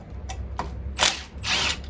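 A power tool whirs and ratchets in a few short bursts while parts are removed from a Poulan WoodShark chainsaw during porting work, with low, moderate mechanical buzzing between the bursts.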